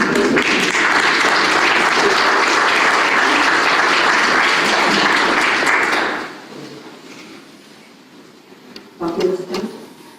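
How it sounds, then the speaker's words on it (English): Mourners at a funeral applaud steadily for about six seconds, a dense and fairly loud wash of clapping that then stops abruptly, leaving a quiet room with a few small knocks and shuffles. "That deserves a round of applause"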